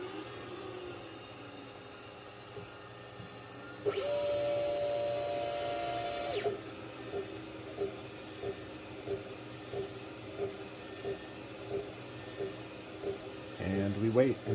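A Glowforge laser engraver works on a leather beer-bottle koozie: a sustained tonal hum starts up, then gives way to a regular series of soft ticking pulses over a faint background hum, close by and without talk.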